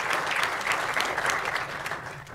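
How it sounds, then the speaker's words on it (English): A crowd at a climate summit panel claps in a loud, close, sustained round of applause that fades slightly toward the end. "So I just like to give a round of applause to all the people that are right there right now"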